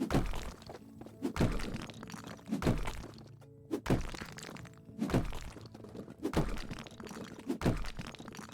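Heavy wall-smashing blows in the House Flipper renovation video game, about seven thudding, cracking impacts at a regular pace roughly a second apart, each followed by brief crumbling debris.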